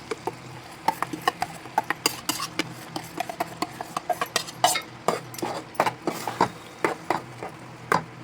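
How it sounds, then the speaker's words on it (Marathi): A utensil stirs crab curry masala in a pan over a low gas flame, producing repeated sharp clinks and scrapes against the metal in an uneven rhythm, close and clear without any talk. "सर्व मिश्रण जे आहे ते परतून घ्यायचं आहे एकजीव करून घ्यायचं आहे"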